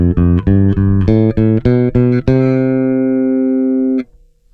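Epiphone Toby Deluxe V electric bass played with both pickups blended evenly: a loud, close run of plucked notes ending on one long sustained note that rings out and then cuts off, alone.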